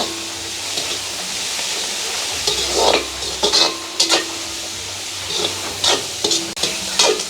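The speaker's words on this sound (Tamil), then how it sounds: "போட்டுக்கொள்வோம் வெங்காயம் பச்சை மிளகாய்" Onions and green chillies frying in a pan, a steady sizzle with repeated stirring and scraping strokes that grow busier midway, close and fairly loud, no voices.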